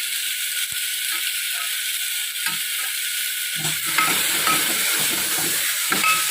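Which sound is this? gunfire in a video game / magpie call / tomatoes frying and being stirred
tomatoes frying and being stirred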